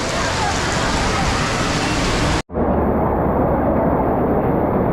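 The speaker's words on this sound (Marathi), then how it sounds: "पाऊस भरपूर आहे" Dense, loud rain roars continuously, broken by a sudden instant dropout halfway before the downpour resumes just as heavily.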